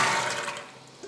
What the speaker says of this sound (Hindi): और पानी चनों के अंदर इतना जाएगा कि सारे चने पानी के अंदर डिप हों अच्छी तरह